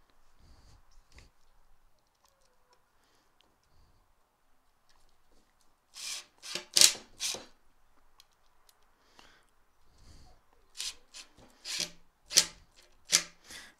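Screws are driven into a wooden archery target frame, with short bursts of close, gritty grinding and clicking in two separate clusters, set against quiet pauses with a few faint handling knocks.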